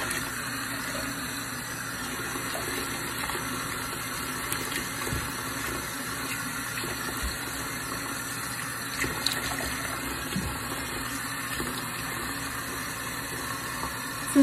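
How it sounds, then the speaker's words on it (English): Running water rinses and scrubs through wet curly hair during a wash, a steady close gush from a shower or tap flowing continuously with small splashy shifts and no talking. "Now I'm gonna start really rinsing it out and scrubbing it off myself."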